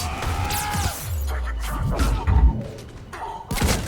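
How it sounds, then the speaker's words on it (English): Grenade explosions in the Mass Effect 3 video game during a Sur'Kesh mission, heard as several dull, heavy thuds and crashes in quick succession, fairly close and loud, with a brief voice in the mix. "more grenades, whee!"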